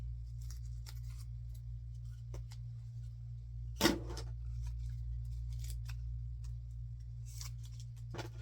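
Scissors cut through yarn in a single crisp snip near the middle, set against a low steady hum and a few faint handling taps.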